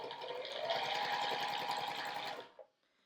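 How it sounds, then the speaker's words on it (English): Sewing machine stitching a quarter-inch quilting seam, a steady, fast mechanical whirring and clatter running continuously for a couple of seconds before stopping abruptly, close and alone. "I'm just going to sew a 1/4-inch seam along here."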